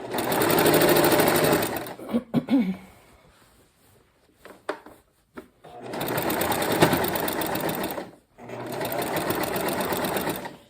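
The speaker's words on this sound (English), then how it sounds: "That little bump you heard was when I went over the seam where the joints were" A sewing machine stitches across quilt seams in three loud, steady bursts of a couple of seconds each. Quiet gaps between them hold soft clicks and handling noise.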